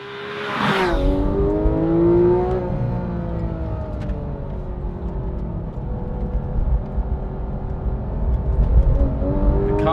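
A Porsche 991 GT3 engine revs hard and climbs toward a high-pitched wail, with rising and falling tones and a strong, close roar that stays loud and steady.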